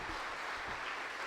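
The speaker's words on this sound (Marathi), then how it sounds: "एकदा जोरदार टाळ्या सगळ्या मान्यवरांसाठी" An audience at a Marathi talk gives a brief burst of applause for the dignitaries on stage, a steady crowd clatter of many hands lasting only a moment.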